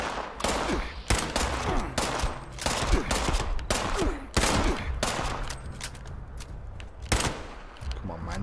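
Rapid enemy gunfire in the video game Fallout 76, dense bursts of automatic shots hammering loudly and continuously for several seconds, with repeated sharp cracks layered over one another.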